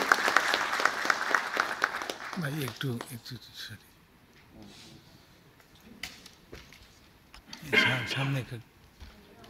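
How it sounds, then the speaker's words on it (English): A burst of audience applause fills the opening seconds, then fades; a voice speaks, and a short second round of clapping follows. "A round of applause for our chief guest."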